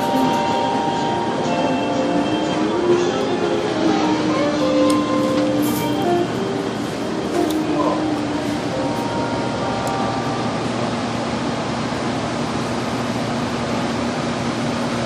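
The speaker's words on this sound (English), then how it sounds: "Christmas trolley. Sector Route 15." Philadelphia SEPTA Route 15 Christmas trolley rolls along with a steady rumbling hum and drawn-out squealing tones from the wheels and rails, loud and continuous throughout.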